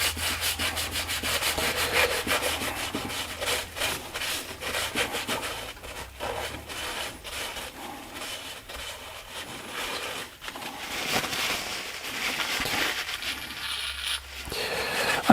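Brake cleaner worked over portable air compressor parts by hand, giving steady close scrubbing and rubbing with quick scraping strokes and occasional sharp knocks, no talking.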